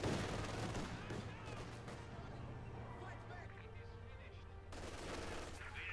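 Gunfire crackles through a Company of Heroes 2 skirmish as conscripts with anti-tank rifles face grenadiers with light machine guns, a steady dense battle din with voices murmuring over it, dipping briefly before swelling again near the end.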